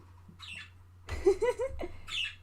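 A pet bird squawks from its cage in a short burst of a few harsh, rising chirps, close by, with faint scratchy sounds before it.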